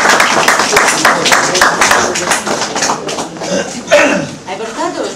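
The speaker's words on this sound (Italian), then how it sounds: "Un applauso." Scattered audience clapping at an Italian music gathering, sharp separate claps mixed with coughs and chatter, thinning out as voices take over near the end.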